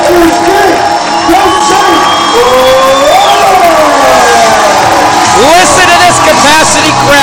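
A capacity crowd at a wrestling event roars loudly, with rising whoops and shouts swelling over a constant wall of cheering, close and overwhelming throughout.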